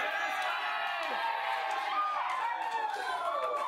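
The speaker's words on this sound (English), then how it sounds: "See that cheering?" Wedding guests cheering and whooping for the groom's father as he comes up to speak, a lively roomful of voices with shouts and calls layered over crowd chatter, moderately close.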